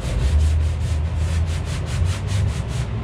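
Steady back-and-forth hand sanding on wood inside a truck camper, a rhythmic scratchy rubbing repeated in quick even strokes, close and fairly loud.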